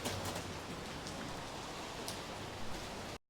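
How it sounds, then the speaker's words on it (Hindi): Steady rain falls on a Singapore street, a dense even hiss of drops on hard surfaces with occasional sharper splashes, continuous and fairly faint, with no voices. "बारिश हो रही है"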